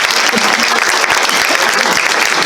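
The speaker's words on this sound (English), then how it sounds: "Let's give her a round of applause" Audience applause at a historical society quilt program, a loud, dense burst of many hands clapping nearby, sustained evenly through the whole short stretch.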